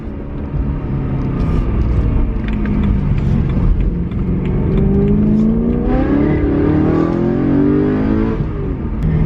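A BMW M3's engine drones and revs steadily from inside the cabin, pitch rising and falling as it accelerates through gears.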